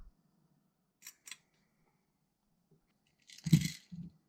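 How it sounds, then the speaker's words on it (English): Small hex screw fitted into an airsoft M14 mid-cap magazine: two brief faint clicks, then a louder close-up cluster of metallic scraping and plastic clacks as it seats. "slide this on. Put the hex screw in there."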